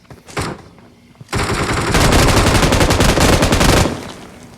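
M249 machine gun fired in a video game: a short burst, a pause, then a long sustained automatic burst of rapid, loud, close shots lasting about two seconds, with no talk over it.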